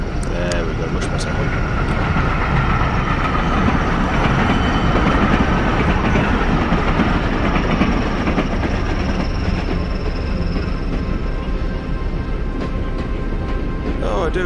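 Steady train rumble on rails inside the Source Engine game G String, a continuous loud mechanical drone with faint rhythmic clatter running the whole time, no pauses.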